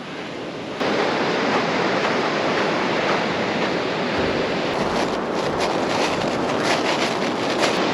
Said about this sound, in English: it's good to be back on the ocean